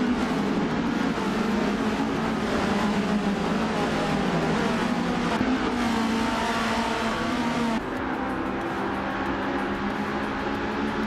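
A 1975 Metal X MTX 103B race car engine in a racing video game drones loud and steady at high revs, holding a constant pitch with small shifts as it runs.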